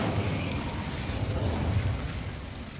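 An Incendio fire spell cast in Hogwarts Legacy makes a steady, roaring whoosh of flame that fills the whole moment at moderate loudness, broad and rumbling with no clear start or end.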